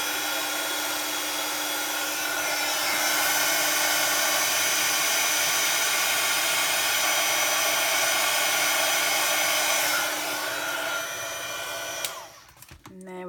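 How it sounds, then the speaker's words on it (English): Embossing heat tool blowing steadily at close range during papercraft work, a loud continuous whooshing roar like a hair dryer that holds for about twelve seconds before cutting off with a clatter. "I'm just going to put my heat tool on, so do turn your sound down if you've got it up."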